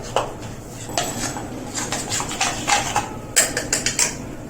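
A utensil stirs thick besan (gram flour) batter mixed with a little water in a bowl, giving a steady run of close clinks and light scraping taps that grow busier toward the end.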